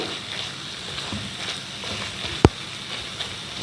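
Bread halwa fries in ghee in a pan with a steady, soft sizzle and crackle throughout, broken by one brief sharp clink of a utensil partway through.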